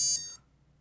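Electronic speed controller startup beeps played through a motor, a short high-pitched electronic tone burst that cuts off quickly, leaving near silence.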